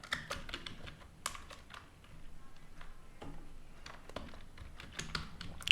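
Quick bursts of keystrokes on a computer keyboard while entering data for a React expense tracker app, close and fairly quiet, irregular taps with short pauses between runs.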